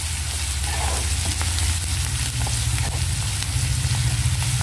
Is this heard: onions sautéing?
yes